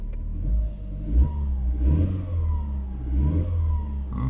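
A freshly started, fully refurbished car engine runs close by, idling with a steady low rumble and a few brief revs rising and falling.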